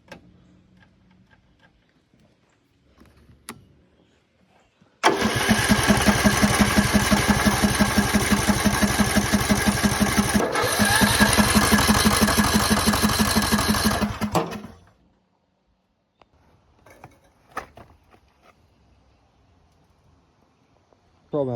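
An old tractor engine, choked and freshly fuelled, coughs to life and runs with a fast, ticking chug for about ten seconds before dying, with quiet clicks and handling sounds before and after.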